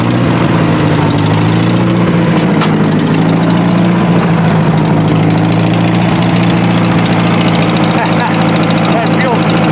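An old overgrown Farmall tractor engine runs rough on bad, dirty gas. The loud, close, droning idle holds steady with a slight wavering pulse, and someone talks over it.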